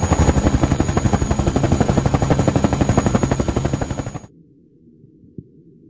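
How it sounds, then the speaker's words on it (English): A helicopter's rotor thumps in a steady rapid chop, loud and close, then cuts off abruptly, leaving near silence with one faint knock. "Helicopter."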